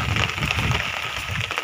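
Steady rain falls in a dense, continuous patter close by, with no one talking.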